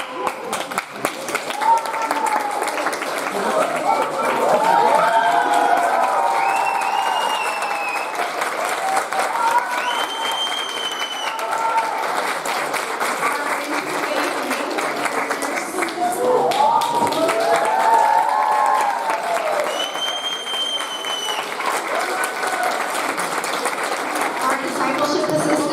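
Sustained audience applause with scattered cheers at a leadership awards ceremony, loud and steady for the full length and swelling twice as recipients are honored, with faint voices mixed into the crowd noise.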